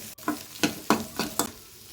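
Garlic and chillies sautéing in a pan for a chutney: a soft sizzle with about five regular scraping stir strokes, moderately close, no talking.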